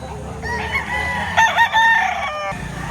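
A rooster lets out a clear, close crow at a chicken market in Lipa, Batangas, with fowl clucking and general market noise beneath it.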